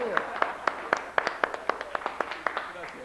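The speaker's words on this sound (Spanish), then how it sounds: "Un aplauso también de bienvenida." A studio audience at a Spanish-language variety show claps in welcome. The claps come as a steady, rhythmic series of crisp, evenly spaced beats, moderately close.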